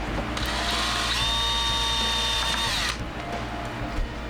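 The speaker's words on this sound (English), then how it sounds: "Make sure when you're drilling holes" A power drill bores holes aboard a boat in a hot cabin, its motor whining at a steady pitch for about two seconds before stopping, over a constant low engine-like hum.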